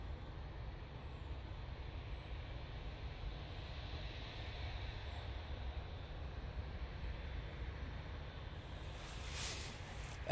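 A Juneyao airliner departs Manchester Airport, its jet engines making a steady distant roar with a broad rumbling low end that holds evenly throughout.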